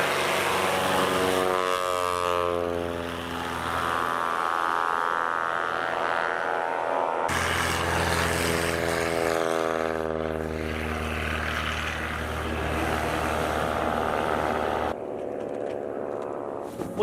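A small propeller plane with a big engine taking off in Alaska, loud droning engine with sweeping pitch changes as it passes close by, sustained throughout with brief cuts.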